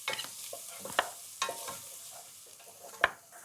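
Onions sweating gently in a pan, a soft steady sizzle with several crisp scrapes and taps of a utensil stirring, close by.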